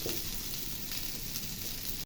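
Steady, loud sizzling of chicken frying in a pan, a continuous close hiss with no voices.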